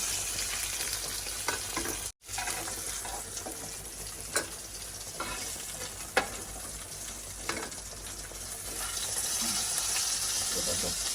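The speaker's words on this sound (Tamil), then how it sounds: "மீன் நல்லா பொறிஞ்சிட்டு மீனை வந்து நாங்கள் எடுப்போம்" Fish frying in hot oil, a steady close crackling sizzle with occasional clinks of a utensil stirring and a brief break in the sound.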